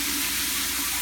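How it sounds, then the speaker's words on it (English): A shower head sprays water in a steady, loud, broadband hiss at strong pressure, continuous throughout with no pauses or talk. "Looks like all of the nozzles are functioning as they should"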